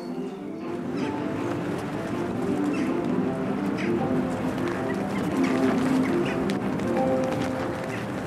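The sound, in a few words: rooks calling while building nests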